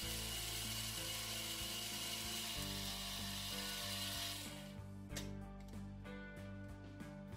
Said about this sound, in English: I ground the garri with a dry mill to turn it into powder.